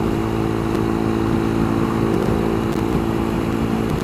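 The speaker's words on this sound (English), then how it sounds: "I went looking for another gear and I realized I'm already in top gear." A motorcycle engine running steadily in top gear on a road, loud and close with a constant droning hum and no changes in pitch or revving.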